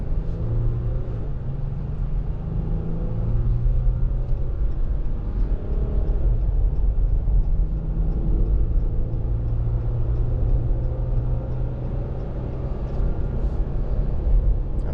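A 2020 Ram 1500 EcoDiesel towing a Kubota accelerates onto a highway toward 70, its low engine drone and road rumble steady and loud throughout, heard from inside the cab without talking.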